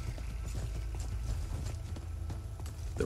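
Horse hooves clip-clopping in Skyrim, a steady rhythmic trot of close, moderately loud hoofbeats over ground, continuing throughout with a low background rumble.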